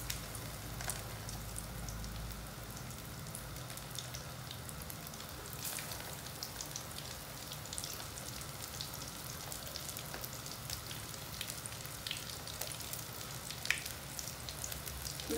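Oil sizzles and crackles steadily in a pan as food fries, with sardines or eggplant for a Moroccan-style dish, a dense continuous hiss with scattered pops at moderate level and no talk.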